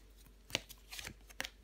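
Tarot cards are laid down onto a surface in a few soft, quick slaps and slides, close and faint, with no speech.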